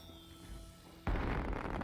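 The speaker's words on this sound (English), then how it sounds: "Oh, fireworks." Fireworks go off in the video game Astroneer, a sudden loud burst that follows a quiet electronic hum and continues as crackling, rumbling noise.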